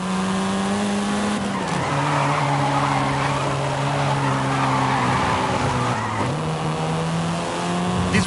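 A Volkswagen Golf R in Forza Horizon 5 drives hard, its engine drone rising and dropping through gear shifts while tires skid and squeal loudly throughout, with no talk.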